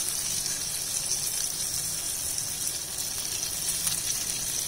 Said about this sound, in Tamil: இப்ப இந்த மீட் பால்ஸ் ஒரு 5 நிமிஷம் ஒரு சைட் குக் பண்ணிக்கலாம்.